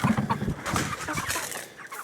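Easter egger Araucana mix hens cluck and murmur up close in a garden, a busy overlapping chatter of short calls fading slightly toward the end.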